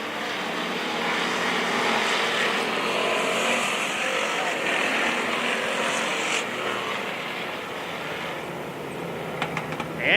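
Pure stock race cars roar around Springfield Raceway in a heat race, a dense, continuous engine drone from several cars at once with a crowd-like wash beneath, loud and steady throughout.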